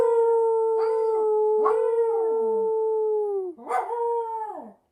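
A dog howls in long sustained wavering tones, several drawn-out howls close to the microphone and alone, with a brief pause before a final rising howl that trails off into silence.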